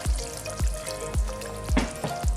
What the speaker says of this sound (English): I'm just gonna add a little bit water in here now, and not too much, about half a cup of water.